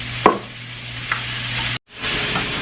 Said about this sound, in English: saute them up a little bit until, you know, they're nice and a little bit translucent